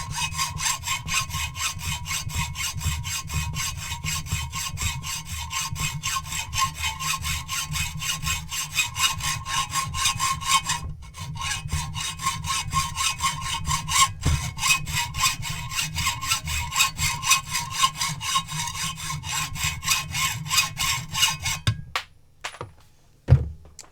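Hand saw cutting through wood for a mortise deadbolt installation, a loud continuous rhythmic rasp of steady strokes for about twenty seconds, ending abruptly with a few knocks.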